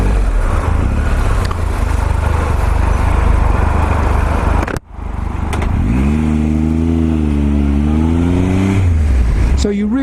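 A Triumph Tiger Explorer motorcycle filters through traffic. Heavy wind rush and engine drone run throughout, a brief dropout cuts in, then the engine note rises and falls as the bike revs and pulls away.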